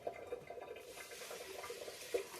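Water poured into a pot to make vegetable bouillon broth for red beans and rice, a faint, steady close trickle with small splashy bursts throughout.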